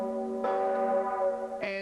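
Church bells toll at the Vatican to mark the death of Pope John Paul II, two ringing strikes with long humming, overlapping resonance, moderately distant.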